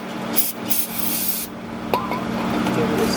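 Brake cleaner hisses from an aerosol can onto the front brake parts of a 2019 Kia Forte S, in short, steady spray bursts in a workshop with background hum.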